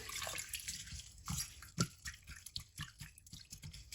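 Chana dal being washed in water gives soft, intermittent splashes, drips and sloshes, quiet and close, in an irregular rhythm with no speech.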